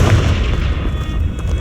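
The Confringo explosion spell in the Hogwarts Legacy video game lands as one loud, close, booming blast that rumbles and decays over less than two seconds.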